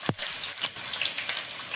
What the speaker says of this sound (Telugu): ఇంకా ఉల్లిగడ్డలు తాలింపు వేసుకోవాలి.